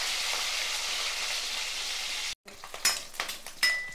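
Boiled eggs fry in a pan for egg curry, giving a steady hissing sizzle that cuts out abruptly, then returns as scattered popping spatters and light clinks of a utensil against the pan.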